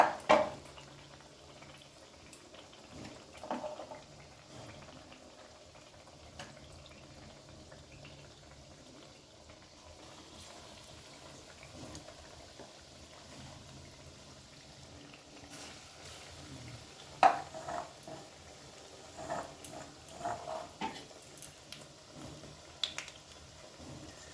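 Battered beguni fritters made with plantain and potato deep-fry in oil, giving a quiet, scattered bubbling with occasional louder pops and spurts. No voices are heard.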